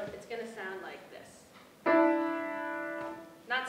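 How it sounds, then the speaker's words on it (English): Piano sounding mismatched, dissonant notes: a few short plucked tones, then a loud struck chord that rings and decays over a second, followed by another attack at the end, near and clear without talk. "if you play it on the piano, it's going to sound like this"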